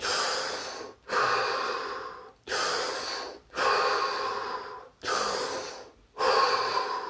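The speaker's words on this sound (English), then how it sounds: "Drop your hands, take 3 deep breaths." Six slow, deep breaths taken one after another during a guided session, each a loud, airy inhale or exhale close to the microphone, separated by short silent pauses.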